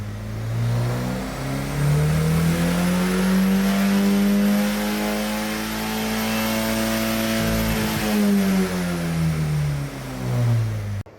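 A car engine revs steadily, climbing and falling in pitch with a smooth, loud drone and whining harmonics, heard close with no talking.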